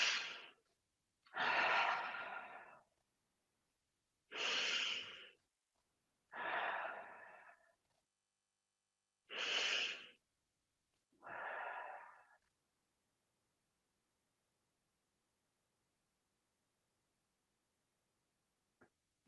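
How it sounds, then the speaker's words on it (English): Six slow, deep breaths during the close of a yoga practice, each a soft airy rush of inhale or exhale with pauses between, close and alone, then long silence. "clearing breaths"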